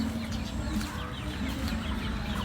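Chickens at a rural home cluck softly and continuously in the background, a low, busy murmur of farmyard fowl with no talking.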